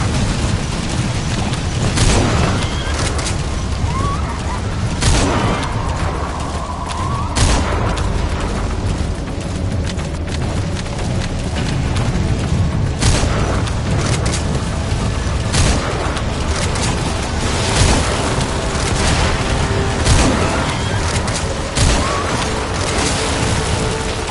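Loud, dense gunfire and heavy explosions fill a Metal Gear Solid V battle without letup, with sharp bursts and booming blasts piling on top of one another throughout.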